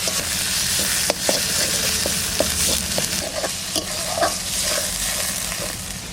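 Ginger, garlic, cumin, coriander and chili fry in hot oil in a pan for a prawn dish, a loud, steady sizzle with occasional clinks of the spatula as the spices are stirred.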